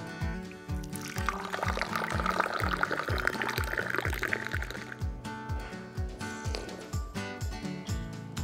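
Hot ginger tea pours steadily into a cup at a gathering in an old zamindar house, a close liquid stream with gurgling pulses underneath.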